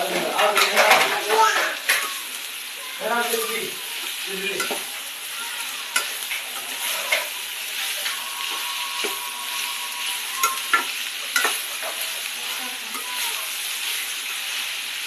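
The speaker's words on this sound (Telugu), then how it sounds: "ఇప్పుడు ఈ ఉల్లిపాయల్ని బాగా కలిపెట్టాలి" Onions fried and stirred in a kadai for a dried prawn and onion curry: a spoon clatters and scrapes against the metal pan over a soft sizzle, loud at first and then quieter, with a voice speaking at times.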